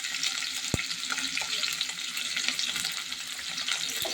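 Green chilies sizzle in a hot frying pan as they are stirred in, a steady hiss of frying with a single sharp clink early on.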